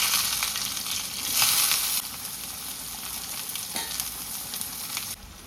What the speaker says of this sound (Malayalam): ഇനി ചുവന്നുള്ളി അരിഞ്ഞിട്ട് കൊടുക്കുന്നുണ്ട് കേട്ടോ